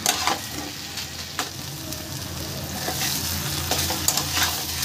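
Banana flower and spices being sautéed in a pan, a close, continuous sizzle with repeated stirring scrapes and occasional clacks of the spoon.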